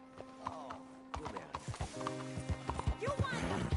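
Horse hooves clip-clop in the Red Dead Redemption 2 video game, a string of close hoof knocks with a neigh early on, under ongoing character dialogue.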